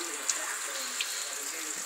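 Distilled water pours steadily into the cooling system of a C4 Corvette, a continuous splashing rush with a couple of faint ticks, close and unbroken.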